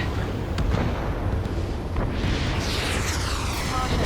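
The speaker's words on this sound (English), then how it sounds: "Missile away." A missile launch and blast inside Ace Combat 7, a dense roar of jet and rocket noise running loud and steady throughout, with a rising whoosh sweeping up near the middle and a sharp burst early on.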